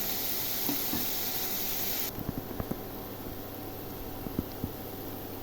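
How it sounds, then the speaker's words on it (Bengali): Onions frying in a pan with a little salt for palak mushroom curry, a faint steady hiss with a few small pops and crackles, quiet and close. "পেঁয়াজটা ভাজা হোক।"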